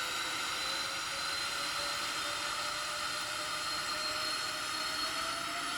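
A Boeing 777-300ER's jet engines run at full takeoff thrust in a flight simulator: a loud, steady roar with a high whine that holds evenly throughout, with no talking.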